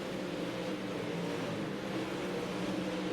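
Pro Late Model race cars roar around a speedway in a steady, distant drone of engines, a continuous blended rumble with no distinct pass-by or talk.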